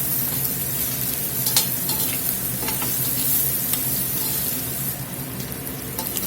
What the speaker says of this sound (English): we are going to toast them up here with the beef a few minutes